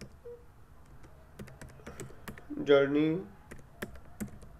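Keys clack on a computer keyboard while code is typed, a string of sharp, close taps at an uneven pace, with a short spoken phrase in the middle.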